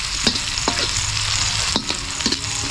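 A metal ladle scrapes and knocks around a pan of food frying with a steady sizzle, giving a few sharp clanks spread over the bubbling hiss, close up and with no one talking.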